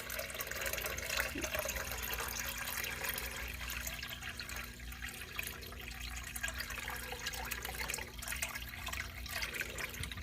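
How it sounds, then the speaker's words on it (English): Water from a bucket poured slowly into a betta fish tank over a decoration during a water change, a steady, continuous splashing flow with no talking. "when I pour it in, I try to pour it over a decoration so it doesn't mess up the rocks"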